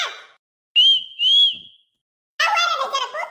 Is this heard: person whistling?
yes